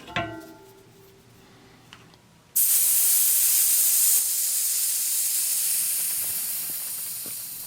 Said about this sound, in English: So if there's any air in the tire, go ahead and deflate it.